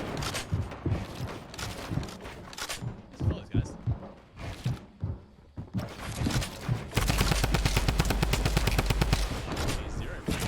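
Video game gunfire exchange: scattered shots early, then a sustained rapid volley of automatic fire near the end, with a voice talking over the action.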